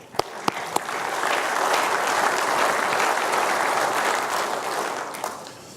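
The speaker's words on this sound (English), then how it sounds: "A round of applause for them." Audience applause at the 2014 Iowa Renewable Fuels Summit begins with a few scattered claps, swells into a dense, even wash of clapping for several seconds, then tapers off with a few last claps. Nobody speaks.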